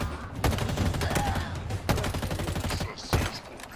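Rapid bursts of gunfire from Halo Infinite combat, loud and close, with several sharp volleys and a kinetic weapon firing in quick succession amid battle noise.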